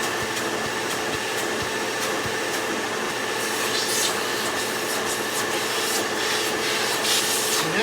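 A Hoover WindTunnel 2 upright vacuum cleaner runs continuously and loudly close by, a steady broadband whoosh and motor drone with a faint scraping rub over it.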